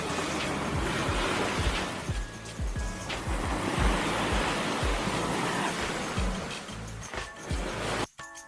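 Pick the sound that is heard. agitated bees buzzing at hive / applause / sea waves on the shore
sea waves on the shore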